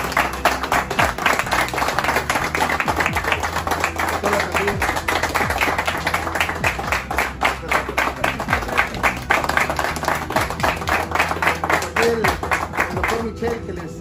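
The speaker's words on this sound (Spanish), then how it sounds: "hoy quiero que todos les demos un aplauso al personal del autódromo" A crowd applauds the staff of a racetrack in Mexico, with individual claps distinct in a rhythmic, fairly close patter that continues for over ten seconds while voices murmur underneath.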